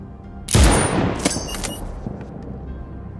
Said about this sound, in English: the report on the rifle is certainly loud enough